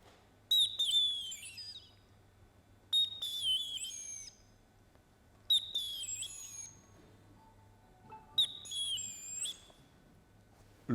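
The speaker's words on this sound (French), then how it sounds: "Celui de la mésange bleue." A blue tit sings alone in four separate bursts of high, ringing whistled notes that end in a quick trill, each about a second long and spaced a few seconds apart, clear and close over a faint background hum.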